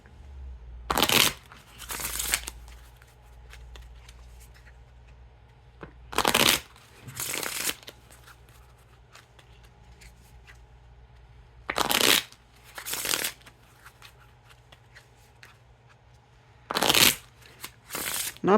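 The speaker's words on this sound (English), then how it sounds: "And now time for the riffle shuffle or bridge shuffle." Orange Notorious Gambling Frog playing cards given repeated riffle and bridge shuffles, four crisp bursts of snapping cards spaced a few seconds apart, each ending in a soft cascade, close and alone over quiet room tone.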